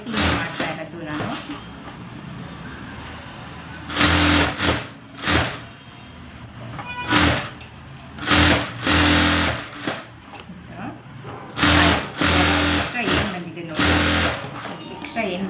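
A sewing machine stitches piping onto a simple neck design in repeated bursts of loud, close, rapid mechanical whirring, with pauses between runs.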